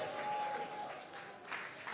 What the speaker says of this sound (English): Can you give a clap to Ambassador Kwaka